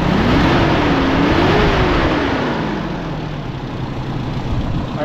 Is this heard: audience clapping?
no